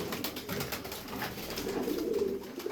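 Pigeons coo softly in low, throaty murmurs, a faint repeating burble close by with some light rustling underneath.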